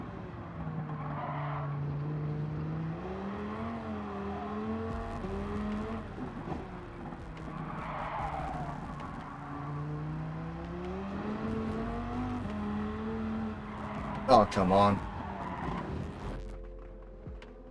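Street car lapping the Nordschleife in a racing video game, its engine droning steadily with shifting pitch through gear changes and corners, a brief sharper burst near the end, while someone talks briefly over it.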